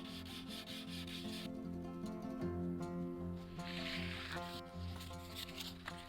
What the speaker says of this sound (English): I was slightly worried about the wet sanding because of the wood